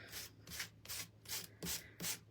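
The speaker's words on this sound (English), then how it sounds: "So I'm lightly sanding it." Light sanding of a painted surface up close: six even rasping strokes in a steady back-and-forth rhythm, with short pauses between them.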